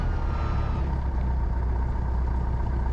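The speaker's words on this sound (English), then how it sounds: "Make sure she can idle with the carb heat on." A light aircraft engine idles steadily with carburetor heat on, a continuous close rumble with faint clatter and no talk.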